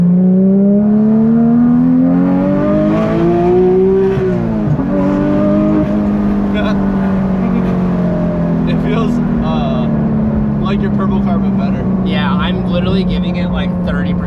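A crash-rebuilt Porsche GT3 RS engine pulls hard while driving, its loud, close revs climbing steadily, dropping briefly at a gear change, then climbing again in a smooth, sustained howl.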